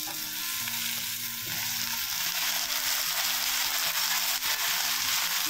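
Brinjal and tomato fry in a pan, a dense continuous sizzle with stirring scrapes, loud and close beneath background music, with no voices.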